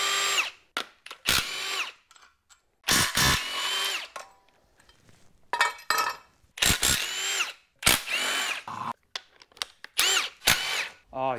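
A power tool, likely an impact driver, removes brackets from the front of a 1998-era Honda Civic engine, firing in about a dozen loud, sharp bursts of varying length separated by pauses.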